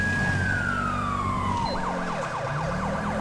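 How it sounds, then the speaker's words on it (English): A police car siren in the video game GTA 5 sweeps down in a long falling wail, then switches to a rapid up-and-down yelp, loud and steady over a low engine rumble. "because I really like the sound of the siren"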